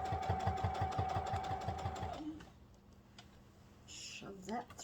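Quilt layers feed through a sewing machine in a short burst of quick, evenly spaced stitching thumps with a humming whine, which halts after about two seconds and leaves quiet handling noises.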